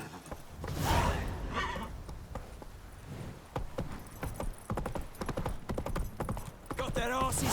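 Horse hooves clip-clop at a steady pace in the video game The Witcher 3: Wild Hunt. The close, rhythmic hoofbeats go on throughout while a voice speaks over them.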